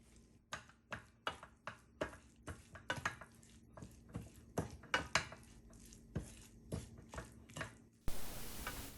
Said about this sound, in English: Squeeze in some lime juice to balance out all the flavors and stir together.